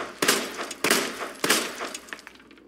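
Automatic gunfire in Resident Evil 2: three loud sustained bursts at roughly even intervals, close and crisp, followed by fading scattered pops.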